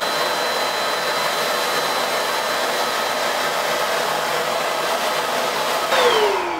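A spray tanning machine runs with a steady, loud airy blower hiss that stays even throughout and swells slightly near the end, with no voices.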